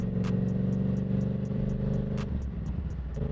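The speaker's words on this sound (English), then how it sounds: "Now we're just going a little bit of ride, getting the bike warm." A Yamaha R7 motorcycle rides along clear winter roads while it warms up, its engine giving a steady, continuous mid-pitched drone with faint ticking clatter, close and even throughout, with no voices.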